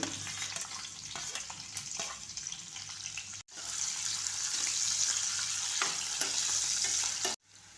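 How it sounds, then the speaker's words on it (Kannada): Sliced onion frying in hot oil with spluttering mustard seeds and cumin for a brinjal curry: a steady, close sizzle with a soft crackle throughout, broken by two brief gaps, and no voices. "ಈರುಳ್ಳಿ ಎಲ್ಲ ಫ್ರೈ ಆಗ್ತಾಯಿದೆ"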